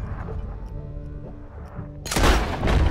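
In Red Dead Redemption 2, a gun fires with a sudden loud, booming blast and a rumbling tail, following a quieter stretch of low, murmuring game sound.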